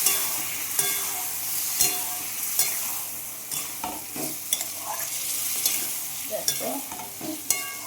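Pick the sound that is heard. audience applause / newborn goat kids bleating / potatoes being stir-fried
potatoes being stir-fried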